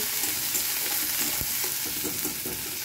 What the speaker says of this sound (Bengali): এবার এটা ভালো করে নাড়বো।